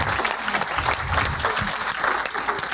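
An audience at the Breizh Awards 2023 ceremony applauds, dense steady clapping that fills the room with no break, loud and close.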